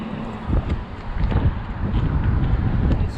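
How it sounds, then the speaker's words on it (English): Strong wind buffets the microphone in continuous roaring gusts outdoors in Rangeley, Maine, loud and close, with no voices. "it's so windy out there"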